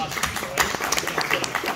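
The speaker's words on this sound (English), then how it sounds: "Can I give you an applause?" An audience at a talk on homeschooling and school options claps in a short, mid-level burst of scattered applause, while a speaker's voice runs over the clapping.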